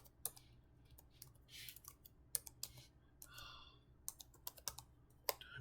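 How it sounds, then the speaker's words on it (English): Someone typing on a computer keyboard, sharp irregular clicks and clatters in short bursts, close and fairly faint in a quiet room. "Am I typing that right?"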